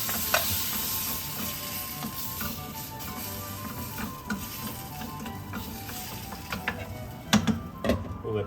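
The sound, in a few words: tomato paste sauce simmering in a pan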